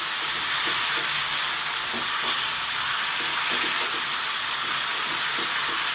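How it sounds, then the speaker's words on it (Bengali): Tomato, ridge gourd and onion fry together in a pan, giving a steady, close hiss and sizzle that barely changes, with faint soft knocks of stirring underneath. "নেড়ে চেড়ে সুন্দর করে টমেটো ঝিঙে পেঁয়াজ একসাথে ভেজে নেব"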